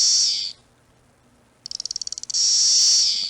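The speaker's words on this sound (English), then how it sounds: "Magicicada cassini." Magicicada cassini periodical cicadas sing in loud, close, high-pitched bursts: a sustained buzzing drone cuts off into near silence, then returns as a quick run of rhythmic ticking pulses that swells back into the continuous buzz.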